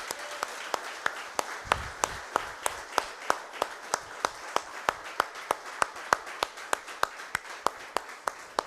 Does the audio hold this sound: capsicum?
no